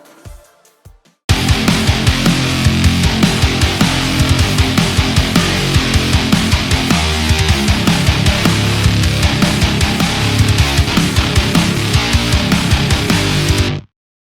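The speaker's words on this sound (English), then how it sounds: "how to make a heavy metal guitar using Serum" Dense, distorted heavy metal guitar synthesized in Serum, two layers of the same preset run through different amps, chugging loud and continuous for about twelve seconds after a brief quiet lead-in, then cutting off abruptly.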